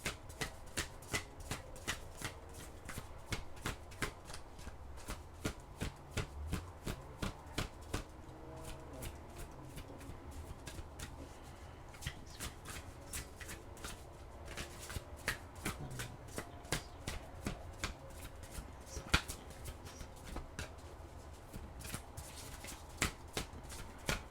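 Oracle cards are shuffled by hand in a steady series of crisp riffling flicks and soft slaps, repeating rhythmically and close-up for the whole stretch, quiet with no talking.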